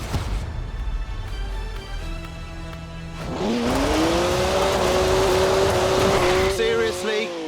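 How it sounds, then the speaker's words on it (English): A BMW 1M in Forza Horizon 4 revs up hard, its engine note climbing and holding a loud, rising drone with faint tire noise, following a quieter idling stretch. "Ooh, a BMW 1M. Great car."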